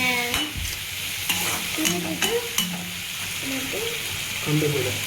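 Green chillies and onion fry in a hot pan for a tomato onion chutney, a steady close sizzle running throughout while a spoon stirs and scrapes in short bursts, with faint voices in the background.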